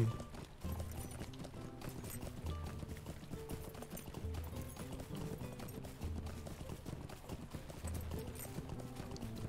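Horse hooves gallop in Lord of the Rings Online, a steady rhythmic clip-clop beat that runs the whole time over a dense bed of game music, with no voices.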